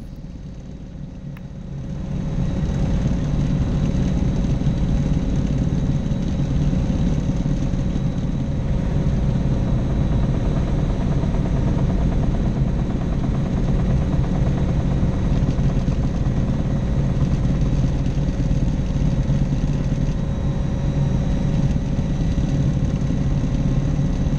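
Helicopter rotor and turbine engine of an LH212 on approach to land in mountains, a loud, steady, close droning roar with rapid rotor chop, rising at the start and then holding constant.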